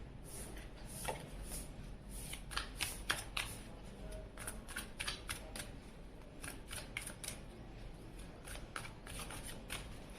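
Tarot cards being shuffled for a Hindi tarot reading: a long, quiet run of rapid papery riffles and soft flicks, close by, continuing steadily with no talk.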